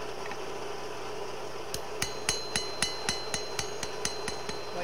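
A hammer lands a series of light, evenly spaced taps on an oak branch set on an anvil, about a dozen sharp metallic clinks over a quiet background.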